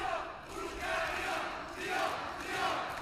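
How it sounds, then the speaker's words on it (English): Crowd at the Teqball World Championships 2019 mixed doubles final, Hungary team, cheering and chanting in a steady sustained roar with rising swells, fairly close and loud, no talk over it. "The crowd are really engaging"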